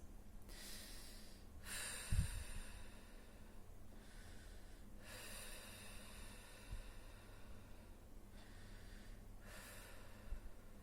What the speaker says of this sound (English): So you gotta take 4 or 3 slow breaths